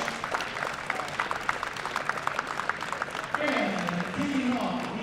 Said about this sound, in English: And a round of applause for all lifters for their participation today.